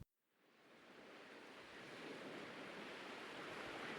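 Ocean surf at night, a broad steady wash of breaking waves that swells from near silence and holds at a soft, even roar.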